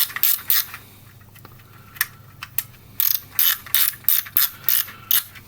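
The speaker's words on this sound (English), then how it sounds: "Film gate opening here, film door opening there." Film door of a Praktica VF212 35mm film camera being opened, giving a run of sharp, close mechanical clicks and ratcheting snaps, sparse at first and then a rapid burst of repeated clicks, with no talk.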